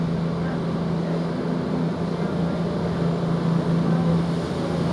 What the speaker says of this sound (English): Now we've got this cross-country service now departing a minute late